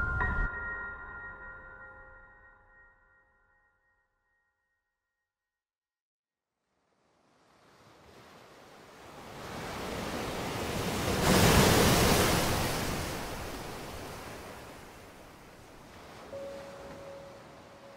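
Ocean waves on the shore in the anime Vinland Saga: after a short tone and several seconds of near silence, broad surf rises, swells to a loud crest and slowly eases back, with a faint steady tone near the end.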